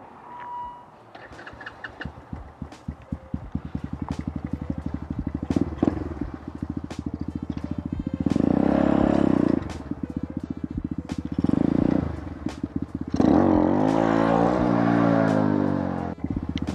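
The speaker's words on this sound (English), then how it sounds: "Do a little wheelie real quick." A Grom clone stunt motorcycle engine idles with a rapid, steady putter, then revs loudly in long bursts as the rider pulls a wheelie, the throttle rising and falling close by, with no talking.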